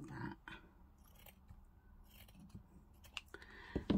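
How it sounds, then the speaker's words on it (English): Scissors trimming paper lace tabs for a craft embellishment, several quiet snips and clicks spaced irregularly, close and soft with no talk. "Just trim that a little bit."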